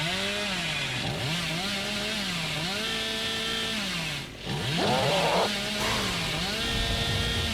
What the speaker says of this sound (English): we go for a little chainsaw sprint to have a look around